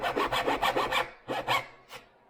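A hand saw rasps through wood while starting a groove along a marked line on a wood template, giving several quick, loud back-and-forth strokes, a short pause, then two more strokes and a fainter final one.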